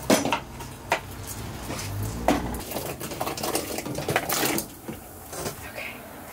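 Potatoes are dropped into a pot of nearly boiling salted water while a vegan Thanksgiving meal is cooked, giving a run of clattering knocks and splashes against the pot with kitchen clanks throughout.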